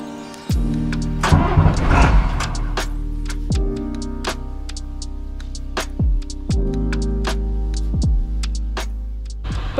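A bus engine starts and settles into a steady, loud idle with repeated clicks and ticks over it, as the vehicle prepares to drive off, with no talking.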